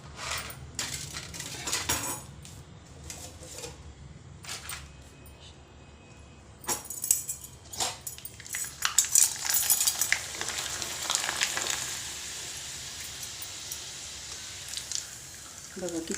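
Rice masala papad dropped into hot oil in a pan, with scattered clinks and scraping of utensils before the frying builds into a hissing, bubbling sizzle that carries on to the end; a voice talks over it.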